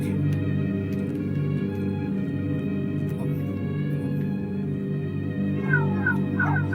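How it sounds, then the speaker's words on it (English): A cat meows amid a dense, continuous game soundtrack of music and effects, the call partly buried in the steady mix with higher wavering tones near the end. "Cat."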